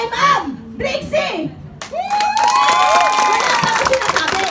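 A live audience at a Hakot Day event in Hong Kong breaks into loud, sustained clapping and cheering for a woman named Brixie. Whoops and shouts ring over the applause, and an announcer's voice talks just before it begins.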